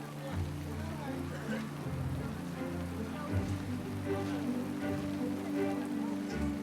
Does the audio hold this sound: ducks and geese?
no